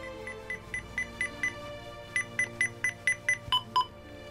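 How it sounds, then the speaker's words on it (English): A lightsaber's volume button sets off a rapid series of short electronic beeps in two clusters, close and clear over a faint hum. "you can click the button and you hear a beep indicating the volume"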